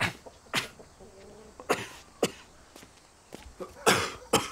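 A person coughs repeatedly in a domestic scene, several sharp broadband bursts spread irregularly with short pauses, fairly close and moderately loud, with no talking.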